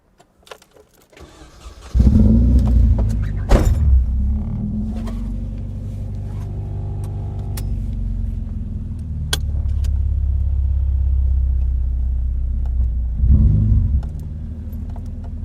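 A car with KADER ECU modifications starting up and idling, then driving along a street with a low steady engine rumble and occasional revs, close and loud with no talking.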